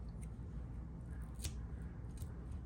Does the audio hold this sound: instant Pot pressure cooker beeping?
no